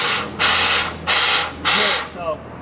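A stucco sprayer blasts three loud bursts of hissing spray in a steady rhythm, each about half a second long, while an air compressor drones in the background between the bursts.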